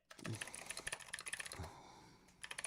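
Fast computer-keyboard typing in quick bursts of sharp key clicks, close and fairly quiet, pausing briefly near the middle before resuming.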